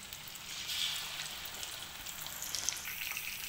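Sardines frying in oil over a medium flame, a soft, steady hiss with scattered light pops and crackles, fairly quiet and continuous with no voices.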